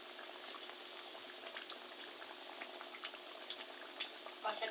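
Chicken curry with fried potatoes bubbling in a pan, giving a soft, continuous simmering and sizzling with scattered small pops, faint and close, steady throughout with a slight clatter near the end.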